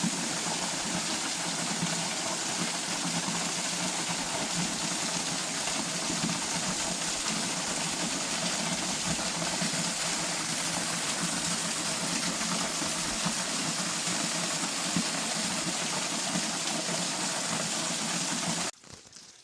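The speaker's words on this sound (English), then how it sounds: "Now this may be the last waterfall on the Tooloona circuit." Waterfall on the Tooloona Creek circuit, a constant broadband rush of falling water, loud and steady for the whole stretch, with no speech, cutting off abruptly near the end.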